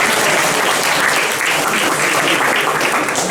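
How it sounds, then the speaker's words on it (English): Steady, dense applause from the audience at a student comedy gig, loud and sustained throughout with no talk over it. "So give him a round of applause."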